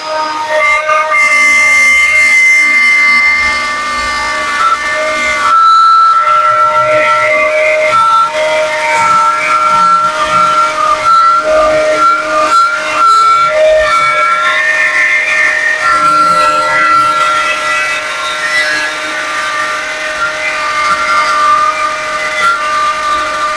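A wood router fitted with an mts Parettool circle jig mills a round hole, giving a loud, steady high-pitched whine that runs the whole time with only a brief dip partway through.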